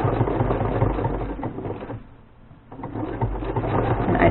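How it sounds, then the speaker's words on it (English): A sewing machine top-stitches a pants pocket front to back in a steady, close mechanical whir of rapid needle strokes, pausing briefly midway before running on again. "I am in the middle of top stitching the pocket"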